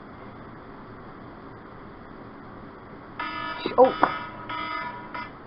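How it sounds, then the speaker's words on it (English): An electronic alarm suddenly starts beeping in repeated bursts after a quiet stretch, loud and close, with a startled exclamation from a voice. "That was my alarm to feed my pig."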